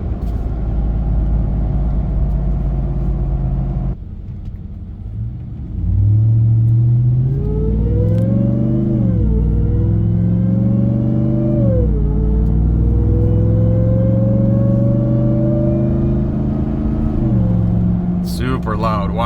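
A Ram TRX pickup in sport mode, fitted with a K&N full intake, rumbles at idle and then accelerates in several surges. A loud, rising intake whine climbs in pitch with each push of the throttle, and voices are heard briefly.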